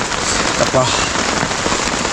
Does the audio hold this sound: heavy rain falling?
yes